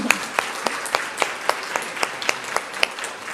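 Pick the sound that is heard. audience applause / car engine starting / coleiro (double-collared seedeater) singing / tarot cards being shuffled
audience applause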